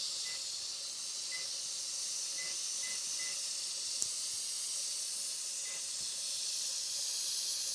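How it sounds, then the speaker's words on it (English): Steam hisses steadily and loudly from a pressure canner being vented while processing ground beef and turkey, a continuous bright rush with a few faint ticks and pings, no voices present. "first you bring your canner up to a heat that starts to push the steam out of it"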